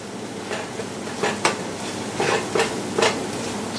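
Eggs cooking in a pan on a stovetop: a soft continuous sizzle with several sharp scraping and tapping clicks of a utensil against the pan, close and moderately loud.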